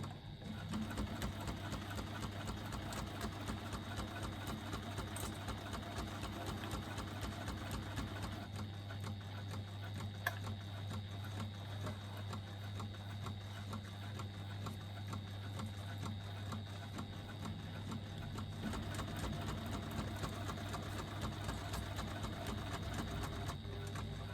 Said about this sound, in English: So just a back stitch at the beginning to secure my threads.